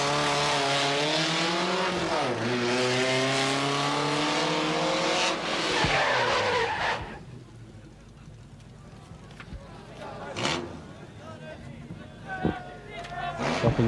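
A 1300cc Toyota Corolla at a Summernats drag event: a loud engine revs hard through several rising gear pulls, then fades, leaving distant crowd and track noise with a voice commentating over it.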